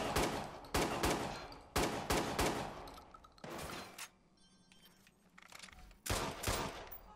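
Shotgun fire from a Saiga, an AK-style shotgun, in the video game Watch Dogs 2: several loud, booming blasts in quick bursts, with short gaps and a final pair of shots after a pause.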